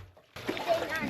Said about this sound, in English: open the spigot and drain the water out